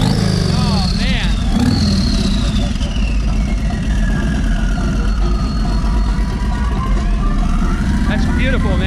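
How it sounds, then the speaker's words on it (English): A turbocharged engine on a street motorcycle runs loud and close, rumbling steadily with a faint whining whistle rising and falling above the idle. "You can hear that turbo going."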